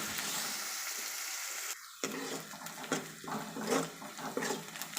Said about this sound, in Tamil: ஒரு மூணு நாலு நிமிஷம் நல்லா வெங்காயத்தை வதக்கி எடுத்துக்கலாம்